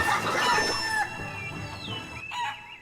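Chickens in the video game Shenmue III cluck and squawk loudly at close range in a short burst of rising and falling calls, with no talking.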